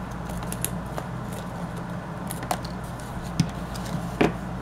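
Paper being cut for a Little Golden Book spine craft, with a few quiet scissor snips and light paper rustles over faint room noise.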